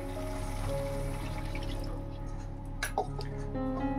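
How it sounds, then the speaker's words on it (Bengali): Rinse water from a mixer jar poured into fish masala cooking in a pan, a steady liquid trickle and bubbling with a couple of sharp clinks near the end, no talk. "এবার মিক্সি ধোয়া জলটা দিয়ে দেব।"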